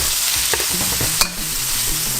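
Beef sizzles loudly in a hot wok with a couple tablespoons of oil over medium-high heat, a steady dense frying hiss with a few scraping stirs and one sharp clack of the spatula.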